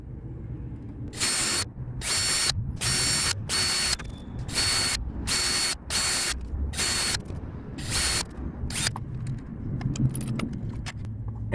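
Small perforating holes drilled around a switch, a series of about ten loud, close bursts of high whining drill noise separated by short pauses, then a few brief taps.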